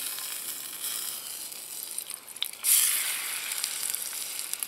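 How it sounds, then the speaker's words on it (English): Meat, the front and back legs for a chili, sautéing in hot canola or vegetable oil: a steady close hiss and crackle with a louder surge of sizzling midway. "Hear that oil starting to heat up."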